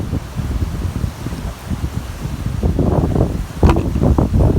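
Strong, gusty wind ahead of an approaching rainstorm rumbles and buffets the microphone, building in force toward the end, with no talk.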